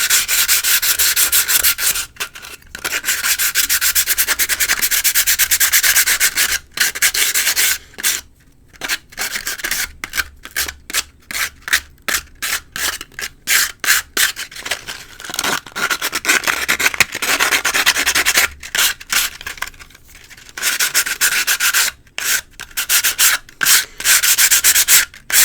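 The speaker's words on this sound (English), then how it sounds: "I'm just lightly rubbing the sandpaper across this micarta" Sandpaper rubs lightly over micarta knife scales in loud, close, continuous back-and-forth strokes, breaking into quicker choppy passes with brief pauses.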